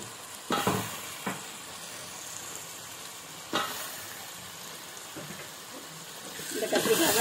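Large brinjal pieces sautéing in hot oil for a fish kuzhambu, a continuous close sizzle broken by a few sharp stirring scrapes, with the frying growing louder toward the end.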